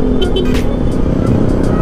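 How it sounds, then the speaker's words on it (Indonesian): A car speeds past on a road, heard from a motorcycle amid steady loud engine and road noise, with a brief whoosh of the pass and no clear talk. "Gila, kenceng banget nih mobil nih."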